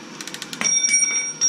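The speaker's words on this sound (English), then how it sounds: "the wrench falls to the floor" A metal wrench drops onto a shop floor, a quick series of light ticks followed by a sharp clang and a high metallic ring that lingers, then a second ringing strike at the end.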